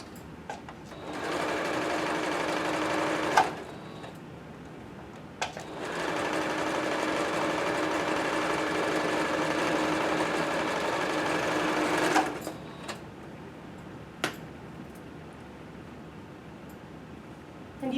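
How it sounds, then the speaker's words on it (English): A sewing machine stitches along the edge of a fabric face mask, its fast even whir running in two long bursts with short pauses and a few clicks between them, close and steady. "So at this point you can just sew again right along this edge."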